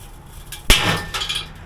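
A plastic part is snapped off a Weber kettle grill with a flathead screwdriver, giving one sharp crack followed by a short rattling clatter and a faint ringing tail, close by with no talking.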